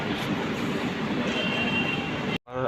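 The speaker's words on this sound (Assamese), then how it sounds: "আহি পালে এইখন হ'ল সৌৰাষ্ট্ৰ মেইল" The Saurashtra Mail passenger train rumbles close by as it arrives at a station, a dense, steady roar of wheels and carriages on the rails that cuts off abruptly just before the end.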